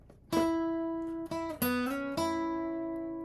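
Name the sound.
guitar lead line, measure 40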